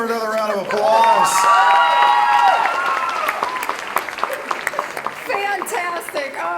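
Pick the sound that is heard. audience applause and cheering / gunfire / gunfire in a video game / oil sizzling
audience applause and cheering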